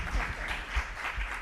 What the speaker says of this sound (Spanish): Se merece el aplauso.